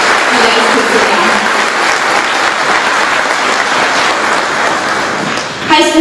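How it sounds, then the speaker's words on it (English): Audience at a high school graduation ceremony applauding the graduates, a steady, dense wash of clapping that holds loud for the whole stretch, with a voice starting to speak at the very end. "Please applaud these young men and women one more time for their accomplishments."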